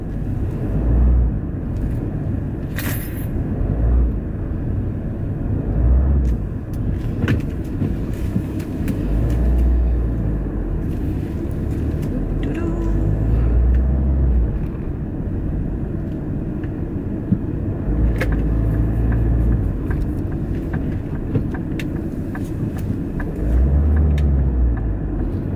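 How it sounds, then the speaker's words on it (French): Car driving heard from inside the cabin, a steady low road and engine rumble throughout with occasional soft bumps and clicks, no talking. "je vous emmène avec moi en voiture"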